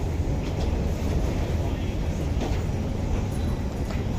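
A train rumbles steadily during travel from Singapore to Thailand, a dense low-frequency roar with faint rattles, heard from inside or nearby with no clear breaks.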